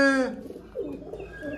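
An injured pigeon coos softly near at hand, a few low, breathy murmurs after a brief higher note, with no one talking.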